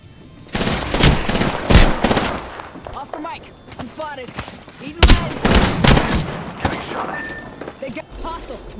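Video game gunfire in sharp bursts and single cracks, loud and close, mixed with excited talk throughout.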